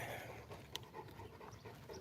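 A dog panting while relaxing in grass outdoors, quick soft rhythmic breaths, faint and close, with a brief sharp click partway through and no voices.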